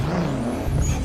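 A Nissan Skyline GT-R R34 engine in GTA 5 revs in a brief, loud, continuous roar with a rising pitch sweep, heard alone.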